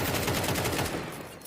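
Rapid automatic rifle spray from an AK-47 in a Counter-Strike esports match, a dense stream of shots fired in quick succession at steady loudness for over a second, then tapering off, with no talking.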